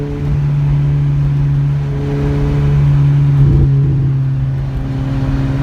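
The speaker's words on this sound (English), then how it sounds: "So there's a McLaren 570S in that beautiful blue color." McLaren 570S sports car engine while cruising on the road, a steady, loud droning hum that holds an even tone, with a brief swell in the middle, heard from inside the car with no talking.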